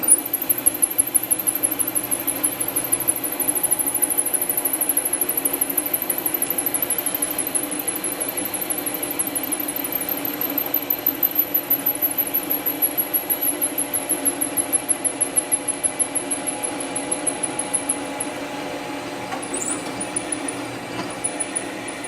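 A hole saw cuts through a workpiece on a large bench drill press, giving a long, steady, high-pitched whine over a low hum, close by and unbroken for over twenty seconds.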